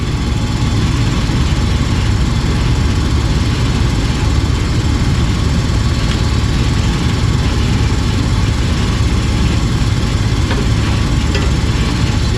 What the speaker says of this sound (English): inducer motor don't sound too happy neither